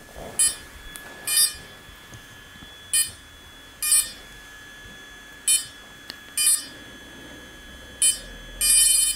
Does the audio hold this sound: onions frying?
no